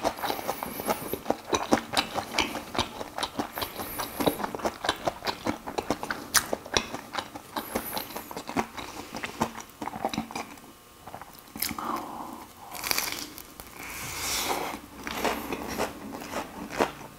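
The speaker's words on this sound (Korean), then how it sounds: "자, 왼쪽부터 한번 먹어보겠습니다." Crunchy cheese-filled corn dog bitten and chewed up close, a run of crisp crackling bites followed by softer repeated chewing, loud and intimate with no talking.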